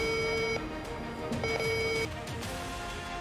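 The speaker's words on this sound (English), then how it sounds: "The VX10 picks it up immediately, giving a clear tone and precise numeric ID for gold" Vitran VX10 gold detector giving steady electronic tones, several sustained beeps that start and stop over a constant background hum, with no speech.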